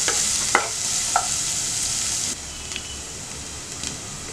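Onions or vegetables with a pinch of salt sauté in a pan for lettuce wraps, a steady loud sizzle with a few brief stirring scrapes, continuous throughout and with no talking.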